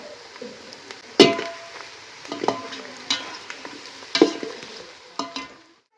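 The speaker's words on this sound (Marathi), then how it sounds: "आता हळद टाकून मस्त द्या परतून घेते" Whole spices such as cinnamon and bay leaf, plus turmeric, stir-fried in a pan for a rustic chicken curry, with soft sizzling under repeated sharp scrapes and clinks of a spoon against the pan.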